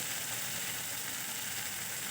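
Ginger, garlic and chopped tomato frying in a pan for a Bengali raw jackfruit kofta curry, giving a steady, even sizzle that holds throughout with no talking.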